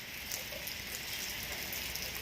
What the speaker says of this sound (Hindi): आज फिर हल्की फुल्की बारिश शुरू हो गई।